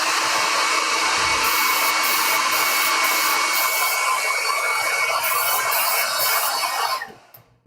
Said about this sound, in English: I am going to use a hairdryer on it and dry it